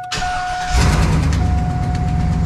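A 2001 Chevy plow pickup in need of exhaust work cranks briefly and fires up, settling into a loud, rough idle close by.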